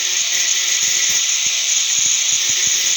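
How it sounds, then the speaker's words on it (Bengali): Worn clutch plate parts from a Discover 125 motorcycle are rubbed lightly, giving a steady close hiss of abrasion with small irregular knocks underneath. "এই যে এইগুলো একটু হালকা ঘষে দিতে হয়"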